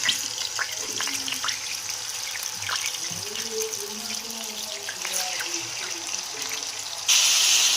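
Chicken frying in hot oil with onion and green chilli paste makes a steady, dense sizzle that hisses continuously throughout, loud and close, with a brighter surge near the end.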